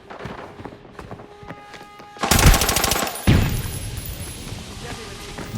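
Gunfire in the video game Arena Breakout comes in two loud, rapid automatic bursts, each about a second long, after quieter movement and light thuds.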